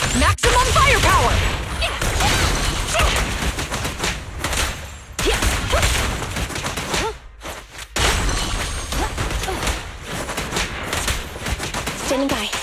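Rapid sustained gunfire and heavy weapon blasts from a suppressor-equipped weapon in the video game Zenless Zone Zero, loud and dense with brief gaps, with game character voices calling out over it.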